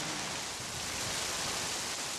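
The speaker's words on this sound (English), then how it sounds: "At Uyuni, which is located at a high elevation, rain often becomes hail." Hail falls at high elevation in Uyuni, Bolivia, a dense, steady hiss of pellets striking surfaces that holds even throughout with no distinct individual hits.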